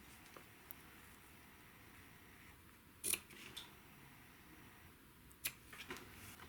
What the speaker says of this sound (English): I take my scissors and just cut it off even with the top part of the triangle